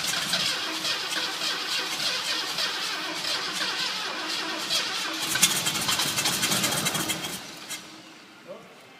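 An old XA car engine cranks and turns over for the first time since 1988, a steady, loud mechanical churn for most of the stretch before winding down, with a brief knock near the end.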